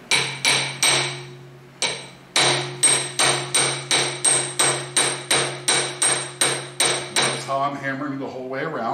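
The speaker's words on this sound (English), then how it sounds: "I'm hammering the whole way around," A new seal is driven into its housing with a hammer: loud, close, sharp metallic strikes in a steady rhythm, about fifteen blows with one short pause near the start, then a brief voice at the end.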